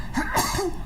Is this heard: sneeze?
yes